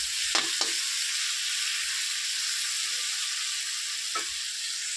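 Spices fry in hot oil with a steady, close hiss of sizzling, broken by a few brief scraping knocks from a stirring utensil near the start and again toward the end.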